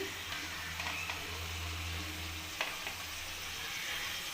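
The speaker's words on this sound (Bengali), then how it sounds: "ফুলকপি আর আলু দিয়েও আমি ভালোভাবে কষিয়ে নেব।" Cauliflower and potato being fried with spices in a pan; a faint, even sizzle with a low hum underneath and a few light clicks of stirring, quiet and without voices.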